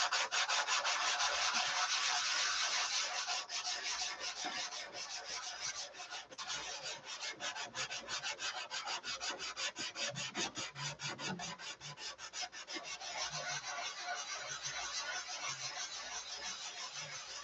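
Sandpaper rubbing back and forth over a balsa model float, a steady rasping scrape with fast regular strokes throughout, close and fairly loud, no voices.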